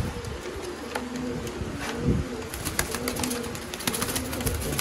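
Domestic pigeons kept by a pigeon fancier in Sialkot, Pakistan, give soft, low repeated coos amid a busy outdoor background with scattered clicks and rustling, moderately distant.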